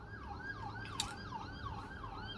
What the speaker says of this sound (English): not police, ambulance sirens